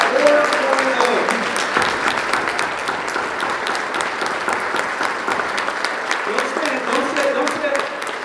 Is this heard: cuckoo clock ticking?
no